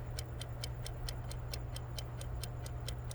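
A kitchen timer ticks steadily at a quick, even pace, the sharp clicks sitting over a low constant hum with no voices.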